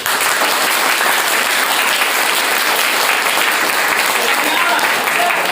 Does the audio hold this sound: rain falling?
no